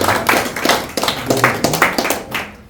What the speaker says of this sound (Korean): 우리 저 젊은 분 한 박수 한번 주십시오.